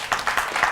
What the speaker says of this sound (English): Let me hear clap.